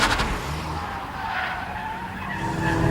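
Seat Leon turbocharged hatchback with 210 horsepower driving on the Anglesey circuit, a steady, fairly loud engine and tyre roar that holds throughout and rises slightly at the end.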